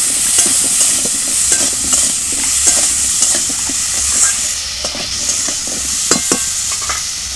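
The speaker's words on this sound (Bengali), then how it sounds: "এবার সবজিগুলো একটু ভালো করে ভেজে নেব।" Vegetables fry in a pan with salt and turmeric, producing a loud, continuous sizzle with frequent sharp stirring clicks and scrapes.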